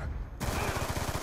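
Gunfire in a Call of Duty match: a sudden loud burst of rapid shots that cuts in after a quieter start and keeps rattling in quick repeated pops, fairly close, with no talk over it.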